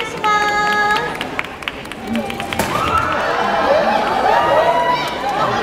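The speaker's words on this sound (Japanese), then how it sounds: "大きな拍手でお迎えください" Audience clapping and cheering to welcome the Iwata city mascot Shippei onto a stage at a live event, a burst of crowd applause mixed with voices and chatter throughout.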